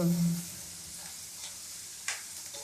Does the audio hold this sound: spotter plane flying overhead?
no